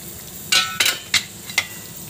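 Pieces of fish dropped into a simmering curry of potato, cauliflower and white brinjal in a pan, giving four sharp, bright splashing sizzles spaced apart, close and fairly loud with no talking.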